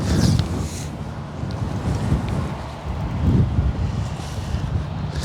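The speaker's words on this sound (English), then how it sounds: "It is pretty windy." Gusty wind buffets a golf course outdoors, rising and falling in a steady roar with occasional louder rushes against the microphone.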